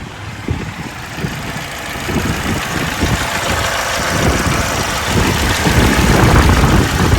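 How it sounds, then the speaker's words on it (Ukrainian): A 2016 Opel Corsa E idles just after a cold start, a steady, close, rough mechanical chatter with a low throb that grows slightly louder over several seconds, with no one talking. "Зараз заведемо його, послухаємо як він працює."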